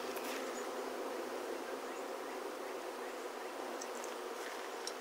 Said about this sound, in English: Bees are nature's perfect architects.